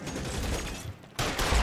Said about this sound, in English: You gotta shoot him fast, shoot him.